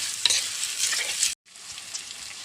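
Ginger and green chili paste frying in hot oil in a pan, a steady close sizzle with a stirring scrape, briefly cut off, then the quieter sizzle resumes.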